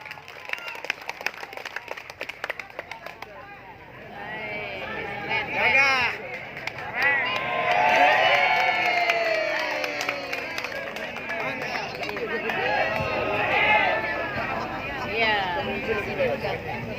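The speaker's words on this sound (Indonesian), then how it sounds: "Beri tepuk tangan untuk kita semua." A crowd claps and cheers at a politician's volunteers' anniversary rally, with broad applause building after a few seconds and continuing loudly, mixed with shouting voices and some speech.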